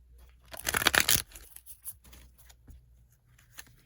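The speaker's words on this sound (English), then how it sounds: "I'm going to get two more shuffles and then we will jump right in" Tarot cards riffle and slap together in a quick flurry, followed by softer scattered shuffling sounds, close up and with no talking.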